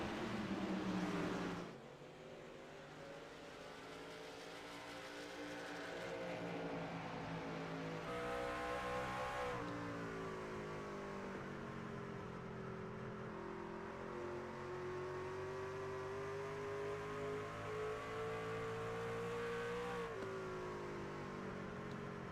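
Race trucks battle at Richmond in a racing video game, a continuous loud engine drone rising and falling in pitch with each revving shift. No voices are heard.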